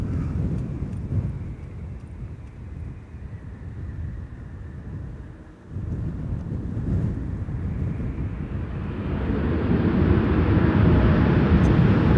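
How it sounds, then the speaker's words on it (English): A Boeing 747 starts its takeoff roll at Amsterdam Schiphol: a broad, distant low roar that swells steadily over the closing seconds, mixed with wind buffeting on the microphone. "And the 747 is rolling."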